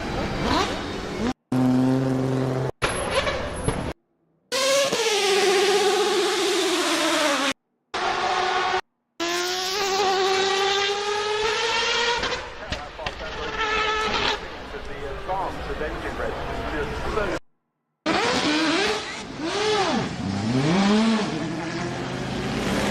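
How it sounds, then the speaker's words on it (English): A 787B race car engine wails at a high pitch, rising and falling through revs and gear changes with short breaks between bursts. It is loud and sustained throughout. "This is what a 787B sounds like."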